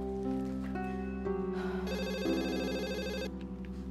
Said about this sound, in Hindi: अब किसका फोन आ गया इस वक्त?